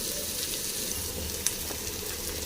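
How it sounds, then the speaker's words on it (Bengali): Garlic goes into onions frying in a pan, producing a steady, dense hiss of sizzling oil that stays close and even with one small clink. "পেঁয়াজটা লাল করে ভেজে নেব এবার দিয়ে দেব রসুন"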